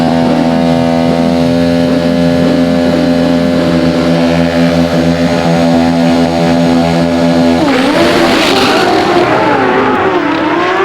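Two Pro Stock drag bikes at an AMA Prostar event run steady, high-pitched engine drones during burnouts, then one revs hard and wails upward in pitch near the end, loud and close.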